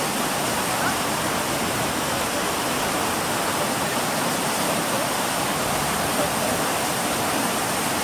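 Floodwaters of the Sarandi creek in Belo Horizonte rush past during a heavy storm, a steady, loud, broadband roar of torrential water that fills the whole scene without letup.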